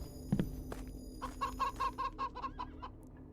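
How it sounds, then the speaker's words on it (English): Chickens cluck in a repeating, near-synchronized series of short calls inside a witch-hunting video game, with one low thud near the start and no talking. "Those in-sync chickens."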